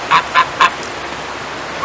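Three quick, loud honks from a goose in rapid succession, nasal and close, with another honk starting at the very end over faint background noise.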